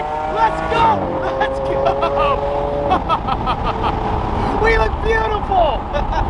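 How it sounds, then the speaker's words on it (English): A car engine running at a track while occupants in racing suits talk excitedly, the engine tone humming and shifting under their voices, fairly close and loud. "This car sounds so good."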